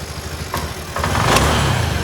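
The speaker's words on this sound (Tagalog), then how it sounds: "Buhay na yung motor" A motorcycle engine cranks with a couple of brief bursts, then catches and settles into a steady running rumble, close and moderately loud.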